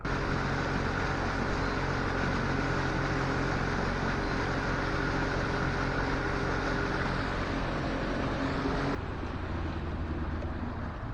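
A bass fishing boat's motor drones loudly and steadily, mixed with rushing water and wind noise, with a slight shift in tone near the end.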